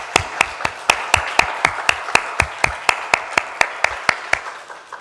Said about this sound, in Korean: 이 시간에 한번 감사의 박수를 한번